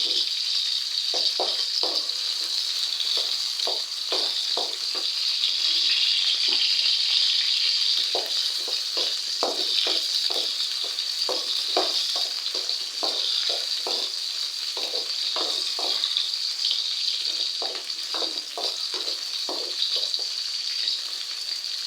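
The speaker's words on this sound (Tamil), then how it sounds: "ஒரு 5 நிமிஷம் இதை நல்லா எண்ணெயிலேயே நல்லா பொரிச்சு எடுத்துக்கலாங்க." Green chillies, ginger and tomato fry in hot oil for coriander chutney, giving a steady loud sizzle with a constant hiss and quick crackling pops throughout, with no voices.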